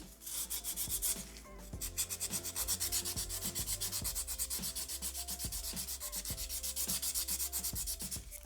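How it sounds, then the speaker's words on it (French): A coarse-grit buffer rubs over gel nails on capsule tips in quick, even back-and-forth strokes, a steady close scratching that runs the whole time with no voices. "On va ensuite, comme toujours, utiliser notre buffer avec le gros grain."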